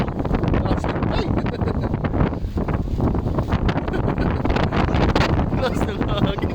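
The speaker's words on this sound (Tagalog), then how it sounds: "Lakas ng hangin." Strong wind roars and buffets the microphone continuously in Pagudpud, Ilocos, a loud, gusty rumble with voices faintly mixed in.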